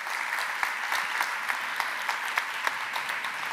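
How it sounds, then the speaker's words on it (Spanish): A congress audience claps in a steady, moderate round of applause, many hands blending into a continuous patter with a few sharper claps standing out, heard from a little distance. "Un aplauso también para Sari."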